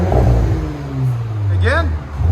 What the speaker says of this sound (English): That's how an Audi should sound.